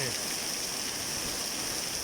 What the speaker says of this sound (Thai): ฝนตกออย่างแรงเลย